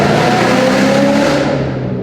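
A Ford Mustang GT with a loud aftermarket exhaust drones heavily from inside the cabin, a steady low growl with tonal bands that eases slightly near the end.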